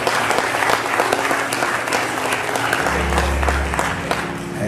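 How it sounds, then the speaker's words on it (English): A church congregation at a Baptist Sunday worship service claps in praise, producing dense, continuous applause that fills the room, with a low hum underneath. "give God another hand clap of praise"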